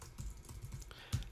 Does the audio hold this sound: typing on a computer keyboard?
yes